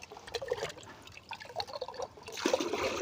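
Water poured and mixed into a homemade organic liquid fertilizer for a periwinkle plant, a splashing, trickling pour with bursts of sloshing, strongest near the end, close and moderately loud.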